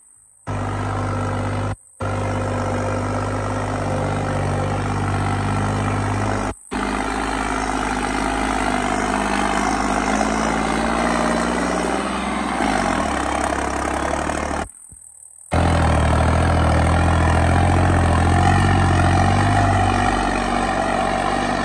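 A New Holland 5620 tractor engine works under heavy load, a loud, close, continuous drone with brief cuts and a shift in pitch partway through, and no speech.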